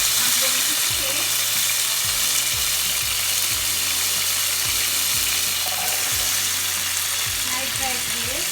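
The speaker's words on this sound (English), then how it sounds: "my veggies, pumpkin and carrot, put them inside the butter to saute" Pumpkin and carrot sauté in butter with a steady, continuous sizzle and crackle, a close frying hiss carrying evenly through the whole stretch alongside a few soft stirring scrapes, in a home kitchen while cooking Jamaican-style steamed fish and okra.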